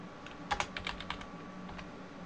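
A computer keyboard on a Mac running Snow Leopard, with keys pressed in a quick cluster of a few sharp clicks, then a couple of scattered taps, close and fairly quiet against a steady low hum.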